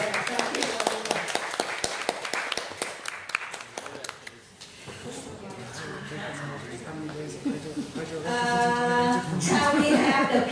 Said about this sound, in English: would like to give a big applause for us who stay in the call room and stay until the end